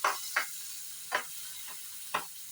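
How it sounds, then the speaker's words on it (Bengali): Carrots are stirred in a pan with butter while making milk pasta, four distinct spoon scrapes spaced apart over a faint background, no voices. "গাজর দিয়ে দিলাম, নাড়াচাড়া করে নিলাম।"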